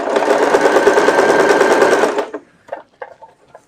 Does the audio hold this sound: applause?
no